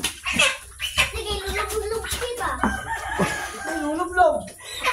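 A rooster crows in long drawn-out calls, fairly close, with clucking and other farmyard noise around it.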